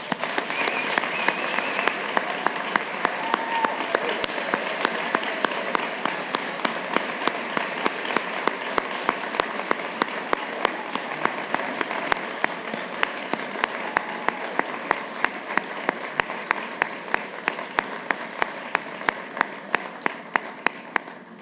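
A large audience at a nursing awards event applauds steadily for more than twenty seconds, honouring Daisy Team Award recipients, with dense, even clapping that neither builds nor fades.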